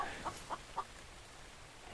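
A chicken in a video game gives three short, evenly spaced clucks, faint against a quiet background hum.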